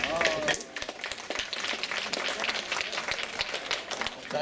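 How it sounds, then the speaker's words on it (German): Sustained applause from a crowd, dense clapping continuing steadily throughout, fairly loud and close. "Applaus."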